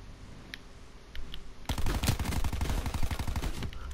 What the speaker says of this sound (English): No, that shotgun is deadly, yo.